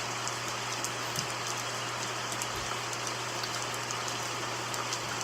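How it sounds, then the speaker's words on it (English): Rain dripping down from a redwood tree outdoors: a soft, continuous patter of drops with a faint low hum underneath, fairly quiet throughout and without any voices. "It's the rain. Coming down from the redwood tree."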